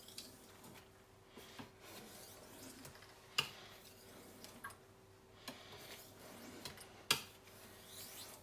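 A kitchen knife is worked over a sharpening stone with hard pressure to take off the burr, giving soft, steady rasping strokes with a few sharper scrapes and clicks, fairly quiet and close.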